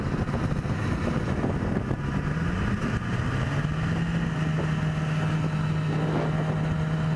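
A Yamaha motorcycle, a 650, rides along with a steady engine drone and a tone that shifts and settles as it cruises, heavy wind rush over the microphone, and no talking.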